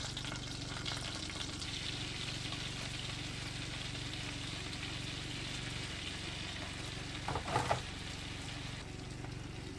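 Food fries in a pan on a camper stove with a constant, bright sizzle and crackle throughout, plus a brief clatter near the end, and no one speaking.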